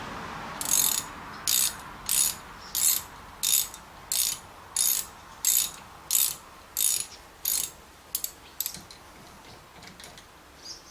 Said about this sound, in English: Only doing up the bolt.